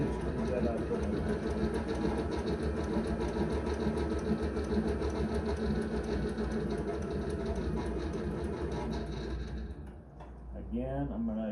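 A sewing machine stitching leather chaps hums in one continuous close run for about ten seconds, then stops briefly and starts again, with a short voice near the end.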